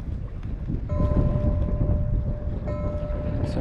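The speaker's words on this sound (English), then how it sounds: "the wind is pretty strong" Strong wind gusts across open water while kayaking in the Western Sound, a loud steady rumble of wind against the microphone with a faint whine running through it.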